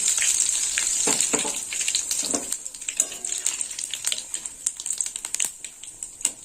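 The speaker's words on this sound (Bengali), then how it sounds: "এই তেলে ফোড়ন দেবো তো ফোড়নে নিয়েছি তেজপাতা শুকনো লঙ্কা আর গোটা জিরে" Bay leaf, dried red chilli and whole cumin tempering in hot oil, a bright continuous sizzle with crackling pops and spits, close and loud at first, then thinning into scattered crackles.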